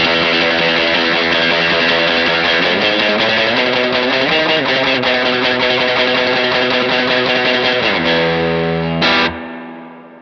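Driven electric guitar plays a fast, continuous surf-style riff through spring reverb, a wet, splashy wash, ending on a sustained chord that rings out and cuts off.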